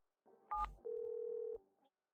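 A telephone call connecting and then cutting off: a short two-tone chirp followed by a steady held tone that stops abruptly, leaving a faint blip, clean and close with no voices.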